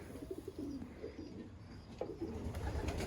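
Racing pigeons coo softly in a loft, low murmuring calls repeating through the clip at close range, with no talk.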